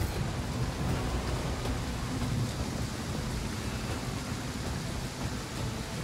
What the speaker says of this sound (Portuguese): Essa chuva zoada pra caralho.